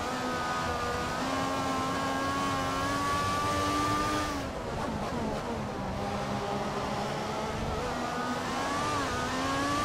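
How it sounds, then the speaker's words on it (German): An F1 car's engine in the F1 2014 game runs at half throttle to warm the tyres, a steady loud droning whine that dips and rises in pitch as it revs, continuous and close. "Warm fahren mache ich ganz einfach, indem ich Gas gebe, allerdings nur Halbgas,"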